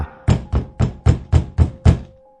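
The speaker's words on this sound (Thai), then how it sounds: "ก็มีเสียงเคาะประตูอย่างแรงดังขึ้นมา" Seven loud, evenly paced knocks land hard on a door, each a heavy wooden thud with a short ringing tail, alone and close.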